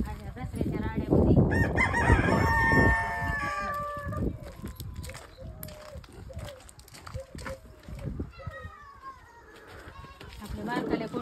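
Roosters crow and hens cluck in a backyard flock of laying chickens, loud crowing early on giving way to scattered clucks and calls, with a person speaking over parts of it.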